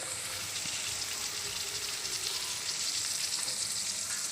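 Keema and potatoes fry in a pan, giving a continuous loud sizzle with faint stirring scrapes throughout and no voices.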